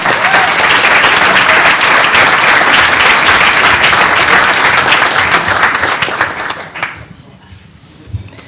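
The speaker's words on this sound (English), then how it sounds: "Please give her a round of applause as she comes forward." Loud, sustained applause from an awards luncheon audience greets TV host Renee Gilmore of ABC 7 WWSB as she comes forward at the Tiger Bay Club of Manatee leadership awards, thinning out over the last two seconds.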